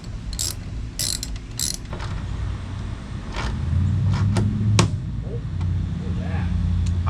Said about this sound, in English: Something just gave loose. Oh, damn it. The bolt broke.